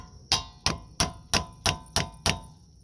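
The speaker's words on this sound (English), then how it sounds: "I jam it in there and then I slowly compress the piston" A heavy-duty screwdriver wedged between a brake pad and rotor on a dual-piston front caliper gives seven evenly spaced sharp metallic clacks, close and clear, with no talk.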